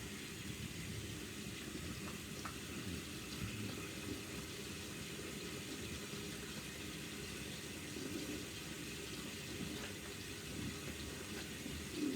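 Tap water running into a bathroom sink while waiting for it to heat up, a soft continuous rushing hiss with a low rumble underneath, steady and fairly quiet throughout.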